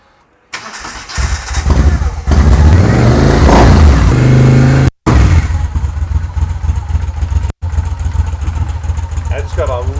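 A 2011 Moto Guzzi V7 Racer 750 motorcycle engine cranks and catches, then revs loudly up and down before settling into a throaty, uneven idle close by.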